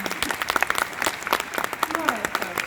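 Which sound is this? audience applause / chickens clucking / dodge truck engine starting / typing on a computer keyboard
audience applause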